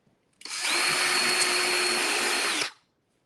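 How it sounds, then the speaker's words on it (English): A power drill drilling a hole in scrap wood whirs up sharply, runs at a steady high-pitched whine for about two seconds close by, then spins down and stops. "So I need to drill one more hole."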